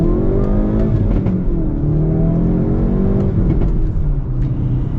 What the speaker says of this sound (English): But we'll get our full blown acceleration now.